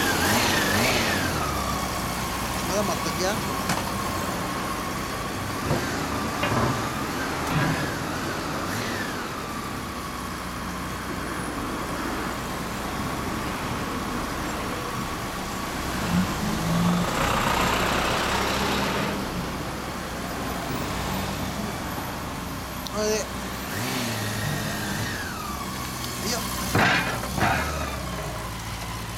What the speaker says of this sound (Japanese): エンジンかけてもらえる？